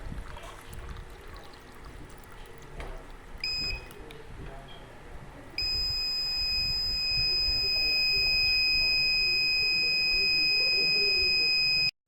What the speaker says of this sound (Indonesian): Jika buzzer berbunyi pada batas yang sudah ditentukan